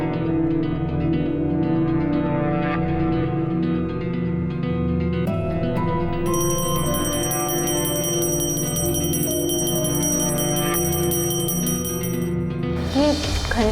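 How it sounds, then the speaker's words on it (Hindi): A bell rings continuously in a home, with sustained overlapping metallic tones and shimmering high overtones, joined by a brighter, tinkling bell partway through and a sharp burst near the end. "ये घंटे क्यों बजा रहे हैं?"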